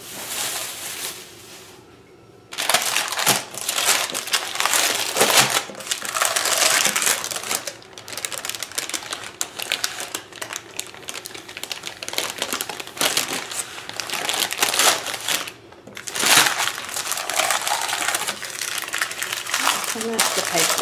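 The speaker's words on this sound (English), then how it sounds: "So I'm just going to take the cling film off." Cling film is peeled off a sheet of chilled, hardened cookie dough with loud, close crinkling and crackling that runs almost continuously, with brief lulls.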